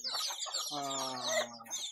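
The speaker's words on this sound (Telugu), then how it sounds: "ప్యూర్ నాటుకోళ్ళు అండి" A native country hen clucks close by in a short, throaty run of calls, with other country chickens and chicks murmuring softly around it.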